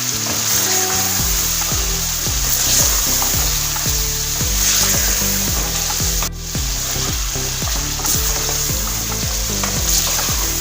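Mutton paya sautés with spices in a pan, giving a loud, continuous sizzle with repeated scraping and stirring strokes all the way through.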